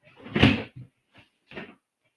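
A workshop drawer is pulled open with one loud wooden slide, followed by a few short knocks and rattles as tools inside are searched for a fret hammer, close by with no talk.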